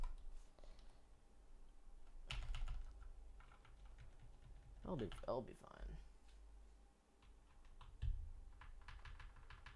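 Fast keystrokes on a custom mechanical keyboard fitted with lubed NovelKey Cream switches, a soft steady clatter running the whole time with a few louder bursts, as people talk over it.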